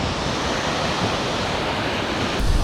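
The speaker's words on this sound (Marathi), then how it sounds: "ओय लाट, अरे लाट भाई, कसली मोठी लाट आहे." Big ocean waves break at Hedvi point on the Konkan coast, making a loud, continuous roaring wash of surf close by, with wind mixed in and no talking.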